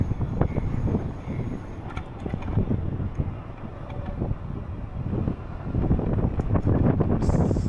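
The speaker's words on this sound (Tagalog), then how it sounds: "Lakas ng hangin." Strong gusting wind buffets the microphone with a loud rumble, rising and falling throughout and growing heavier toward the end, recorded while riding a bike in the afternoon near a cemetery.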